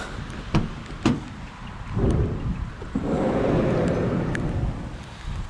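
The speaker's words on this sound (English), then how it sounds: "oh, it's raining" Rain starts falling outdoors during street scrapping beside a load of metal and yard equipment, a steady close patter with a few sharp thuds and knocks, rising in density after a few seconds.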